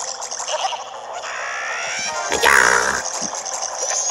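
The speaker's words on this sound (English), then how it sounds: "Because guess who it is? It's the frog!" Frog boss in Zelda Majora's Mask 3D video game, a warbling croaking cry that rises about halfway through amid game music and effects, moderately loud.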